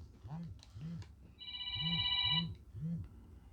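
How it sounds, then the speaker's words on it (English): A phone rings with an incoming call, a steady electronic trill lasting about a second, heard close over low, rhythmic background sounds. "And I got a phone call."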